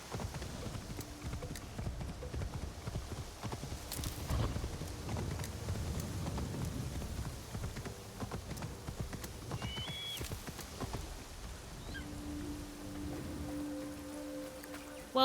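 Hooves of a horse in an Assassin's Creed-style video game clip-clop in a steady walking rhythm under a soft ambient wash, with a few brief tonal game sounds near the end.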